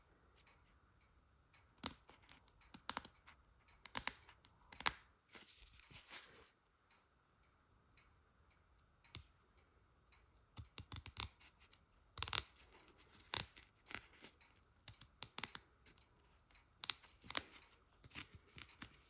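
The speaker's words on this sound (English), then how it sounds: "I keep going like this until I've cut away all the perforated paper from the edges." Scissors snip away the perforated paper border around a cross-stitched ornament, giving faint, close, irregular crisp cuts and paper rustles in bursts with pauses, no talking.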